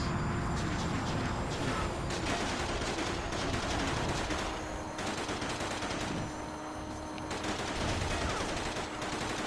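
Car-mounted guns fire in sustained rapid bursts during a vehicle combat racing game, Burnin' Rubber 6, over a steady roar of engines and game sound, with no talk.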